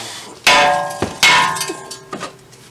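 A hammer strikes the brake rotor of a 2018 Nissan Rogue: two sharp metallic clangs with ringing decay, then lighter knocks, close up with no talk.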